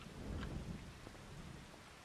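Steady rain pours with rolling thunder in the video game Farming Simulator 2025, a faint, continuous storm wash with low rumbles and no talking.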